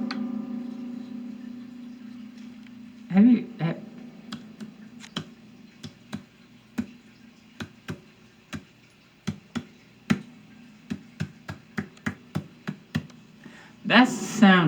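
A voice imitates butt cheeks clapping with a run of sharp slapping clicks, irregular at first and then quickening into rapid bursts, close and fairly loud, with short bits of talk at the start and end.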